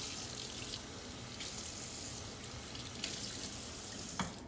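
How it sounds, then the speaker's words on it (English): A kitchen tap runs steadily while an eggshell is rinsed out over a sink, the broadband rush of water continuing unbroken with a few brief splashy accents near the end. "I'm gonna go ahead and rinse my egg out"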